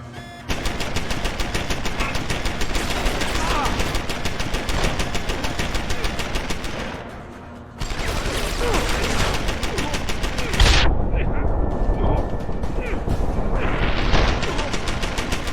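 A hacked turret in the video game Deus Ex: Human Revolution fires long, rapid automatic bursts, loud and continuous, with a brief pause partway through and muffled booms near the end.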